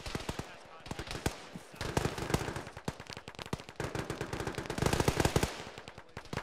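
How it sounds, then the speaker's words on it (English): Rapid bursts of automatic and single-shot gunfire in the Arma military game crack out in irregular clusters, some close and some distant, continuous across the stretch with radio chatter faintly underneath. "He is shooting all of us in the back of the head."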